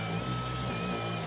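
A Cricut cutting machine hums steadily as it powers on, a constant, fairly quiet mechanical drone with a faint high whine and no voices over it.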